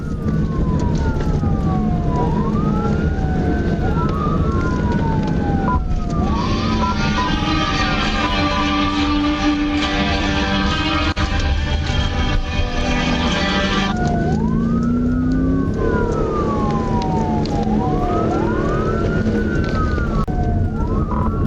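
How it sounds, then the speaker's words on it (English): A state trooper's police car siren wails continuously in rising and falling sweeps, loud and close, over heavy engine and road noise, with a brief steady tone partway through. "When the trooper turned on the lights and sirens, you'd think he'd pull over."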